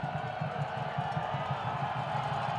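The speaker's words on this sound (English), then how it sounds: "As the crowd gets loud for Carrera Garcia" Stadium crowd noise at a USL League One playoff soccer match between Chattanooga Red Wolves and North Texas SC, a steady distant roar with a faint pulsing rhythm running through it, no clear voices on top.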